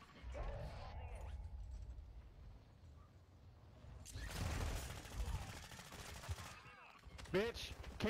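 Gunfire in a video game strikes the player in loud bursts of rapid shots from several directions, mixed with mechanical clatter. Quieter moments come before the shooting starts.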